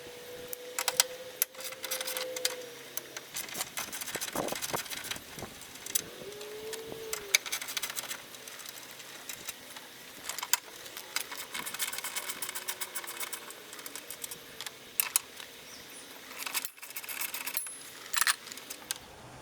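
A ratchet with a 13mm socket works on the cross member bolts of a 2006 Chrysler Town and Country, making bursts of rapid clicking separated by pauses and light clanks, close and moderately loud.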